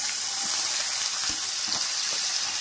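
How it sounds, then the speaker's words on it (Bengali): Chopped onion frying in oil with garlic over a low flame: dense, even sizzling close up, with a few soft stirring knocks underneath. "পেঁয়াজটাকে 2-3 মিনিট একটু নাড়াচাড়া করে নেব"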